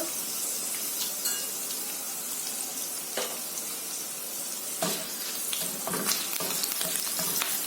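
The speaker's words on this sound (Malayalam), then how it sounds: "ഇതിലേക്ക് ഇനി ക്രഷ്ഡ് ഉണക്കമുളക് കൂടെ ആഡ് ചെയ്ത് കൊടുക്കുന്നുണ്ട്" Crushed dried red chillies hit hot oil and sizzle with a dense, steady hiss, punctuated by a few faint clinks and stirring scrapes, close up and without voices.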